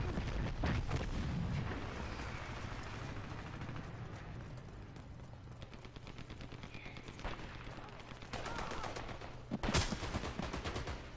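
Rapid gunfire from the online shooter Dirty Bomb rattles in dense bursts, with repeated sharp cracks and booms layered over a continuous low rumble of in-game action, moderately loud and steady throughout.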